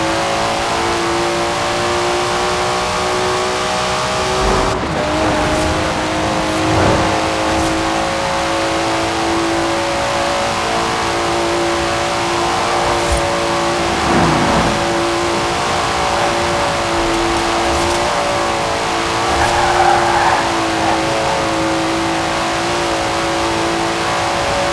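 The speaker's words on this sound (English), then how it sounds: "Never heard a Datsun sound like that, have you?" Datsun car engine in the Forza Horizon 4 racing game, revving hard and continuously, with a loud sustained engine note that rises and shifts over the whole stretch, no talk.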